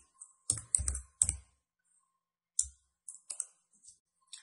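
Computer mouse buttons click in short, crisp bursts, some single and some quick pairs, close and quiet against near silence.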